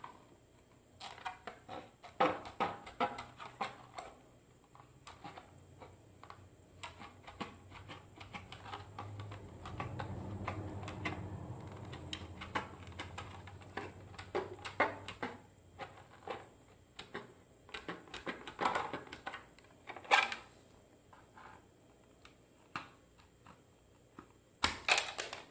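Plastic Anovos TK stormtrooper armor being cut along marked lines, giving irregular snipping and clicking bursts with a steadier scraping stretch in the middle, fairly close and moderately quiet with no talking.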